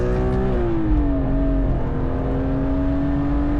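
A BMW M3 E36 engine revs steadily, its pitch dipping slightly then holding at a high sustained whine, loud and close.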